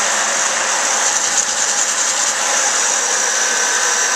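Home coffee roaster spinning green beans as they turn yellow, a loud continuous motorized whir with a steady rattling hiss, unbroken throughout.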